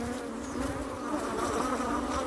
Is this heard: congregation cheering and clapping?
no